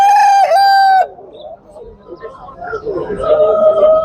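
A rooster crows loudly and close by, then hens cluck and murmur in a busy, overlapping chorus at a chicken market in Tuzla, Istanbul.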